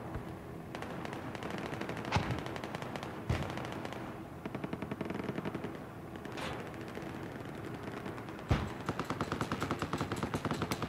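Rapid bursts of machine gun fire rattle through a Battlefield 4 battle, steady rattling runs broken by a few sharp, louder single shots, heard at moderate distance over a continuous background din.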